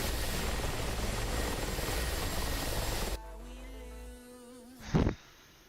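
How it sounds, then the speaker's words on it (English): A Mi-24 helicopter in a video game thrums with a loud, steady rotor roar for about three seconds, then cuts off abruptly to quiet tones, followed by a short whoosh. "Some MI-24 action over here."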